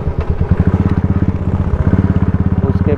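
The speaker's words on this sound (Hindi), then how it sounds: "जो बाइक चला रहा है आगे वो पार्थ" A motorcycle rumbles up close on a hill road at Parnera Hills during a Sunday morning ride with friends, its engine pulsing in a steady, rapid, loud throb throughout.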